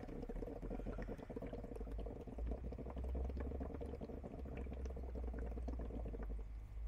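Breath is blown out slowly through a tube into a bottle of water, making a steady stream of soft, close bubbling and gurgling that runs continuously for several seconds without speech.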